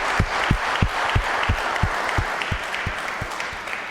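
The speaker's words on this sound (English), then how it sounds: "So why don't we give them a round of applause." A church congregation at a traditional worship service claps in a moderate burst of applause, with distinct near claps standing out over a softer background of hands, steady for a few seconds.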